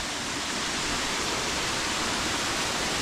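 A waterfall pours into a flowing stream, giving a dense, steady roar of rushing water close by with no pauses.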